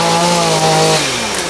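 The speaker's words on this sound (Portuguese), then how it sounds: "a motosserra tá comendo solto" A chainsaw cuts through dense vegetation on an off-road motorcycle and jeep trail, loud and close, its engine holding a steady pitch before dropping as the cut finishes.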